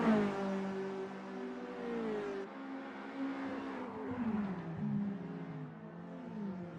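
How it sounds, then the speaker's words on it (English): A VW GTI race car driven hard on a track, its engine revving and shifting with a sustained droning roar and pitch sweeps, heard close and loud without voices. "They're riding the curbs and pushing the car to its limits."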